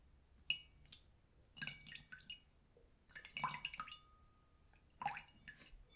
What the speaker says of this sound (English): And I fill it with this cold water